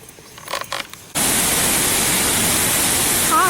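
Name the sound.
Harvalem waterfall, North Goa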